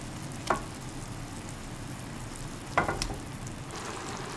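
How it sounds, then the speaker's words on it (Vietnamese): Fried tofu skin simmering in a boiling caramelized black pepper sauce, giving a quiet, steady bubbling sizzle with a few soft clinks, close by and without talk. "mình mở lửa trở lại cho hỗn hợp sôi lên. Và tiếp tục cho tàu hũ đã chiên vào"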